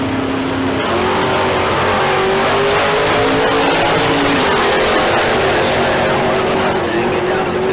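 At Tucson Dragway, a Mustang and an El Camino bracket drag race with a loud, sustained engine roar and a rising and falling pitch as the cars accelerate, heard close and steady.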